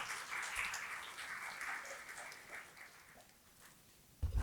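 Applause from a psychology conference audience, a soft, dense patter of many hands clapping at a distance that fades gradually before a brief louder bump at the end.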